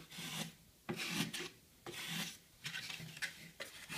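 Filing down the tips of wooden wing aileron ribs, a coarse rasp scraping wood in repeated strokes of about half a second, close and fairly loud with short pauses between passes.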